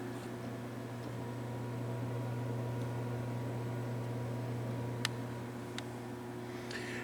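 A gaming PC makes a steady low electrical hum with a droning buzz throughout, broken only by a couple of faint ticks.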